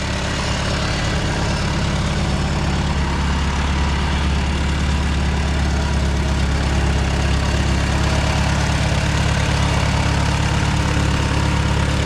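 A tractor engine idling with a steady, loud, low rumble that never changes, running alone without any talking.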